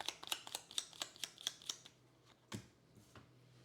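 A deck of board game cards for Aeon Trespass Odyssey is shuffled by hand: a quick, even run of crisp flicking snaps, then a couple of softer taps, close and quiet with no talking.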